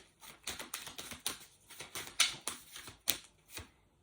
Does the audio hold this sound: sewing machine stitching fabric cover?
no